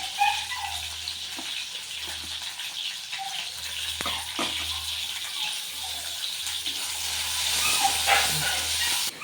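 Sliced ivy gourd frying in hot oil, heard as a steady, close bubbling hiss that swells slightly toward the end, with a faint low hum underneath and no speech.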